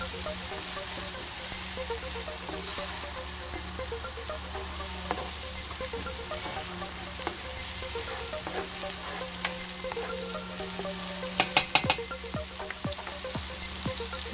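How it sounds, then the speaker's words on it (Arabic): Garlic, onion and pepper fry in oil with a steady, close sizzle, punctuated by a few sharp crackles and pops late on, over a faint background hum. "هاد الثوم والبصله وهاد الفلفله اللي كيتبلاو"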